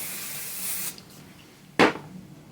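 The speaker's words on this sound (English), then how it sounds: "hairspray is your best friend" Hairspray is sprayed onto hair from an aerosol can: a close, steady hiss for just under a second, then a short sharp burst of spray after a brief quiet gap.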